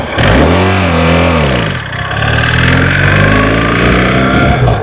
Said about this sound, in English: A little rattle in the engine, but I don't know what it is